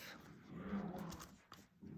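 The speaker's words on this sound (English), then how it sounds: "If you hear grumbles, that's the puppies playing." Puppies grumble and growl softly while playing near a sewing workroom, giving low, rumbling vocalizations and a brief whimper in quiet, somewhat distant bursts.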